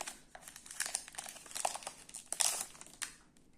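A Pokémon card booster pack wrapper being torn open, heard as close, crinkly foil crumpling and tearing in short irregular bursts with no speech.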